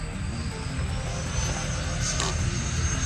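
A model F-16 jet roars past upside down at full speed low over grass, a loud, steady broadband rush that swells slightly as it goes by, with no talking.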